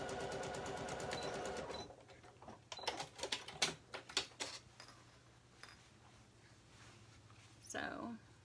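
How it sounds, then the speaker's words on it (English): A sewing machine stitches along the front crotch curve of a garment, running in a steady close hum, then pausing for a stretch of clicks and handling sounds before a brief final burst; a voice talks over part of it. "stop and pivot and then sew down the front of the crotch curve"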